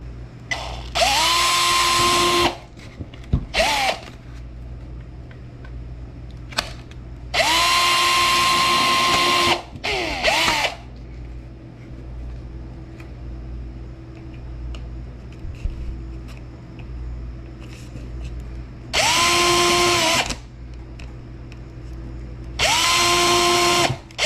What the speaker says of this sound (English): that gives me my pilot spots to drill the holes so that the cannons can go on